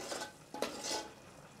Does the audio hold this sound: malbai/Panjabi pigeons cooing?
no